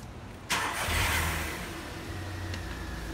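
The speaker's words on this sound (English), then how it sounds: "we have to start the engine before we connect this to the tire" A car engine turns over and catches in one abrupt start, then settles into a steady nearby idle that runs to the end of the stretch.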